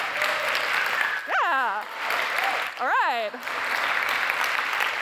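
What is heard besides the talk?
audience applause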